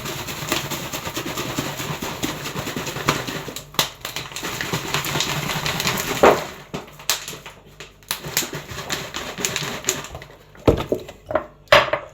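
Sugar being stirred into cold coffee, a spoon clinking and scraping inside a container, continuous and busy at first, then giving way to sparse, sharper knocks near the end.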